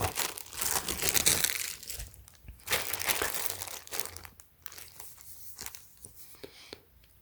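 A plastic bag crinkles close up in irregular rustling bursts as an iPhone 11 protective case is unpacked from it, with no voices.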